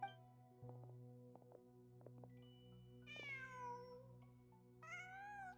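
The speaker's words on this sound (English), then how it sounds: "Just a cat." A cat in the video game Genshin Impact meows twice, two clear drawn-out calls over a quiet steady hum with a few faint clicks, close and with no talking.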